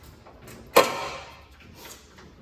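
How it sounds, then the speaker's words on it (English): A door panel being pulled off an Acura RSX dirt-track race car in a garage gives one sharp clunk with a metallic rattle that trails off, alone and close by. "So while I'm taking this door off"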